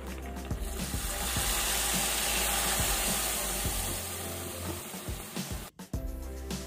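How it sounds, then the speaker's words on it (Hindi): Dry fruits sizzle in hot ghee while being fried for carrot halwa, a constant close hiss and crackle with scattered clicks and a brief pause near the end. "आप देख और सुन सकते हैं कितना बढ़िया इसका तड़का लगा है"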